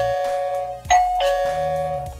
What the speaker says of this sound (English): the hub actually rings, and you can program it